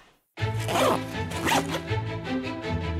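A clothing zipper is drawn open and closed in quick, close, loud rasping strokes, each pass a dense ripple of teeth clicks, following one after another without a break.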